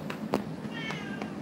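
A house cat meows a few times in short, separate calls, fairly close and moderately loud, with no talk over it.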